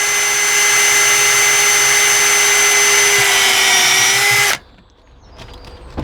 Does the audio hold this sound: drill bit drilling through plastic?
yes